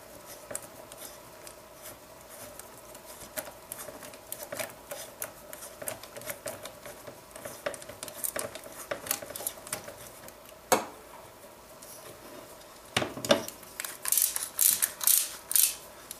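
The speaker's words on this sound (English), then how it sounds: "Holding the pistol grip in place, start threading in the bolt." Metal bolt threaded into a pistol grip by hand, giving quiet, irregular ratcheting clicks and small scrapes of metal on metal, close up, with a few sharper ticks near the end.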